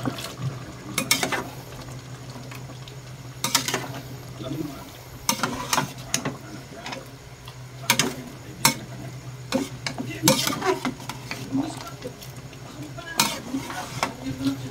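A spoon stirring thick callos sauce in a cooking pot, giving irregular scraping and clinking strokes over a low steady hum, with a person talking between the strokes.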